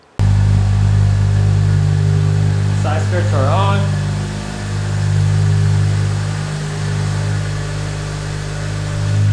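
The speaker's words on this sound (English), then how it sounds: "preview of what the Fields exhaust sounds like" An Acura TSX exhaust rumbles with a deep, steady drone that swells slightly midway, and a person speaks briefly over it early on.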